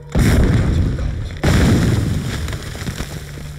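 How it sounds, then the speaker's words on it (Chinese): Artillery bombardment in a war film: two loud, heavy booms land about a second apart, each followed by a rumbling decay, with no speech. "以后先用炮轰"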